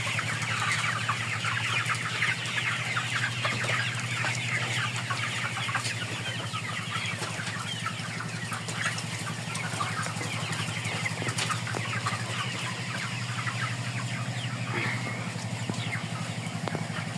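Kazi layer brown pullet chickens cluck and chatter continuously in a poultry farm, many birds overlapping at moderate distance over a steady low hum.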